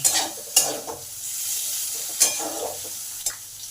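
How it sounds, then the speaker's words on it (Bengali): Snake gourd is stirred into frying potatoes in a pan: a soft sizzle runs underneath while a spatula scrapes and knocks against the metal in several sharp, uneven strokes, close up and with no speech. "এই সময় চিচিঙ্গাটাকে আলুতে মিলিয়ে দিলাম"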